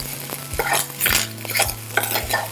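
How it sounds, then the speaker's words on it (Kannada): A spoon scrapes and clinks against a pan while ghee rice is stirred with salt and pepper powder. The rhythmic strokes come about every half second, close and clear, over a faint background hum. "ಇದನ್ನು ಚೆನ್ನಾಗಿ ಮಿಕ್ಸ್ ಮಾಡ್ಕೊಳ್ಳೋಣ"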